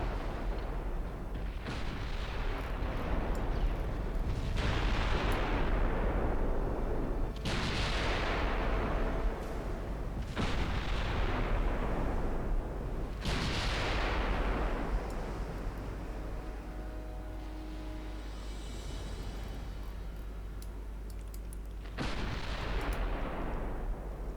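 Heavy naval guns boom in the Ultimate Admiral Dreadnoughts game, a battlecruiser fight with a German fleet of 1910, with deep repeated blasts every few seconds whose long rumbling tails decay over steady low background noise.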